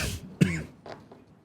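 A single short, throaty cough rings out in a quiet room, followed by a softer second throat-clearing cough a moment later.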